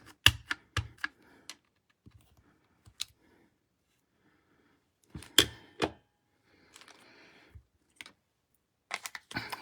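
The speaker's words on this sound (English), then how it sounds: "I'm just going to stamp it 2 more times" A rubber stamp is pressed onto paper cards, giving a series of sharp dry taps and thumps with quiet pauses between them and a quick cluster of knocks at the end.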